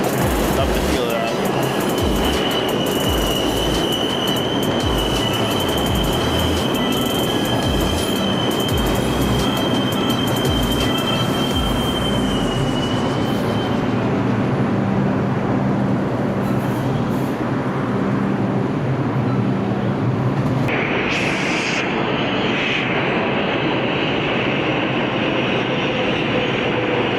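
A New York subway 2 train rumbles through Atlantic Avenue station in Brooklyn, a loud continuous roar with squealing wheels that fades as the train slows, then a sudden bright screech near the end.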